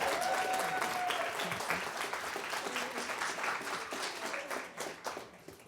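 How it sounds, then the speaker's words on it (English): Audience applause fills a courtroom during an adoption day celebration, a steady dense patter of many hands clapping at moderate volume, holding for several seconds before thinning out at the end. "Let's give them an applause."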